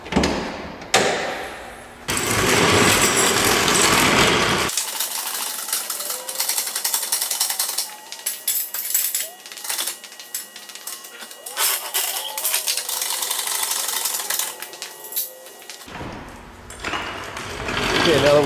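A jack lifts a 1999 Acura CL 2.3 in a garage with repeated ratcheting, clicking mechanical strokes in bursts, close and fairly loud, with pauses and someone speaking between them.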